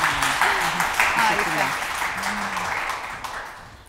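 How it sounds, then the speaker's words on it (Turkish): Studio audience applauds on a television health talk show about hair loss treatments, a steady wash of clapping with voices talking over it. "Bence buraya bir alkış gelmeli."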